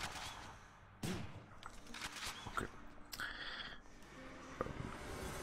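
A grenade launcher weapon in the video game Hades fires quick, sharp percussive blasts. Several bursts with crackling impacts and effects play close and loud over faint background game sound.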